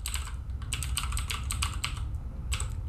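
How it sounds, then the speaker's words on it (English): Rapid keystrokes on a computer keyboard in irregular bursts, close and clear over a low steady hum, with no talking. "so I can start typing and searching."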